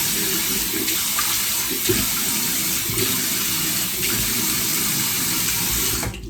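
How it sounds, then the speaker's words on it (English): Water runs steadily from a bathroom sink tap for about six seconds while someone rinses their face, a continuous close splashing flow that stops abruptly at the end. "So I'm just going to rinse my face."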